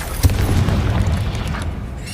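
An Incendio fire spell fired in Hogwarts Legacy, a sudden loud boom followed by a sustained roaring, crackling rumble that slowly fades.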